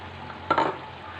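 Vegetables and grated coconut for avial are stirred in a pan, heard as one brief, soft scraping stir over a faint, steady background hum.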